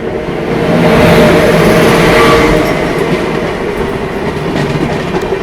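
A passenger train on the Chennai to Kolkata route runs with a loud, steady rumble and rattling carriage noise heard from on board, without speech.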